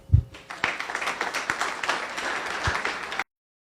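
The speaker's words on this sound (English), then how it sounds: "let's give a big round of applause for John" A Rotary Club meeting audience claps in a brief burst of applause lasting about three seconds, with a few sharp louder claps mixed into the steady patter, ending abruptly.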